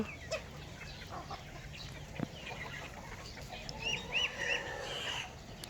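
Several backyard hens housed alongside rabbits and ducks cluck intermittently, with a brief louder run of calls near the end over low ambient noise; nobody speaks.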